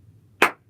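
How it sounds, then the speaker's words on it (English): A single sharp hand clap rings out once, loud and close, with nothing else around it. "slow clap"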